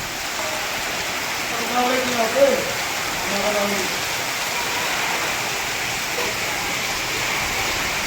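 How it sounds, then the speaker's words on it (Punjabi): Steady wash of heavy rain pouring down, constant and enveloping, with a few brief voices or calls in the middle. "ਤੇਜ ਮੀਂਹ ਆ ਗਿਆ ਜੀ"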